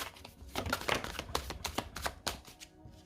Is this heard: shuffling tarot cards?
yes